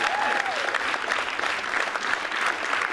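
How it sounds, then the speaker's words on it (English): A comedy club audience in Bergen applauds a stand-up act, steady dense clapping throughout, fairly loud and continuous with a faint crowd murmur underneath. "give him a round of applause"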